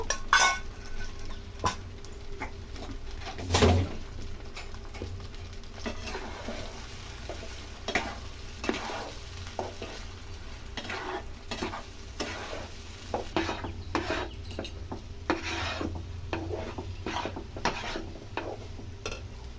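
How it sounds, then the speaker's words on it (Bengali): Taro root paste stirred in hot oil in a pan, with a soft continuous sizzle under repeated scraping and clinking of a utensil against the pan, close and without talk. "তেল গরম হয়ে গেলে এই কচু বাটাটা তেলের মধ্যে দিয়ে কিছুক্ষণ নেড়ে নেব"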